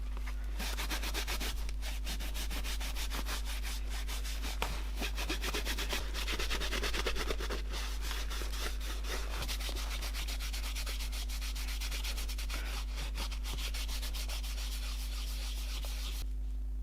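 Worn Prada leather boots made in Vietnam are rubbed with a cloth to lift excess polish, giving a steady, close, continuous scrubbing swish that runs without pause and with no talking.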